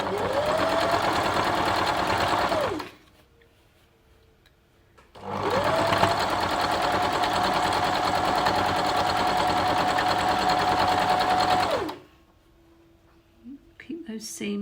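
A sewing machine stitches a strip onto a log cabin quilt block in two long, steady whirring runs, close and loud, separated by a quiet pause, with a few small clicks at the end.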